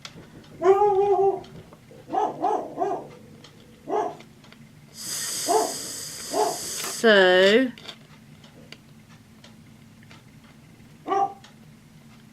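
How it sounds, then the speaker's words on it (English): A dog barks excitedly at a knock on the door, several sharp yips and barks scattered through the clip, one drawn-out whining howl in the middle, with a person speaking briefly in between. "my dog is having a fit because somebody's knocked on the door"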